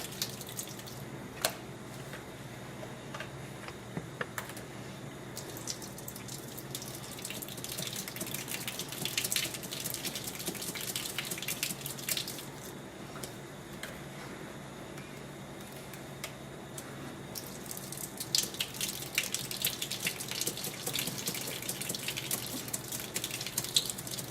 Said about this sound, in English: I drain the water out.